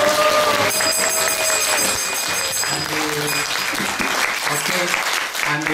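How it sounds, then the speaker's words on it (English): Audience applause at a Moscow spiritual gathering, a full crowd clapping steadily and loudly, with faint voices and a few sustained musical tones under it. "Давайте похлопаем"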